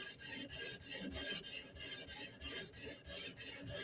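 Steel of a Bestech Tanto knife is drawn across a sharpening surface to reduce the burr, producing about ten steady, evenly spaced rasping strokes close up with no talking.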